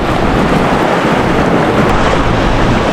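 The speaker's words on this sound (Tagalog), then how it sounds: "Medyo big ang waves here" Big ocean waves breaking at the shore on Sibuyan Island, a loud continuous roar of surf mixed with heavy wind buffeting the microphone, filling the short stretch without pause.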